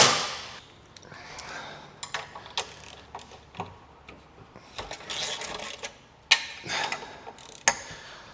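A motorcycle lift being lowered gives irregular ratcheting clicks and sharp mechanical clacks, some louder than others, close by in a quiet workshop.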